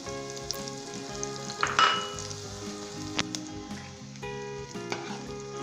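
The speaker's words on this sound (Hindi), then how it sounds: "इसे भी 5 सेकंड के लिए आप फ्राई कर लें।" Spices frying in hot oil in a pan for Punjabi-style white brinjal masala, a steady close sizzle with a brief louder crackle near the middle, playing alone without talk.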